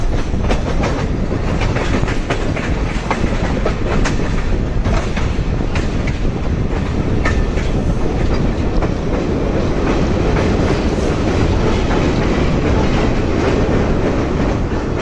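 A local train hauled by a 1954 EMD G8 diesel locomotive rumbles steadily along the rails nearby in Cuba, a continuous loud roll with repeated clickety-clack of wheels over track joints.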